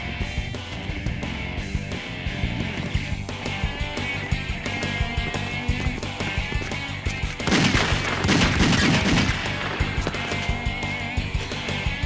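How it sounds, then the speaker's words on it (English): Gunshots fired in a graffiti-covered pit during a police drama scene, a dense burst of rapid cracks breaking out midway over loud background music and effects. "shots fired in the graffiti pit"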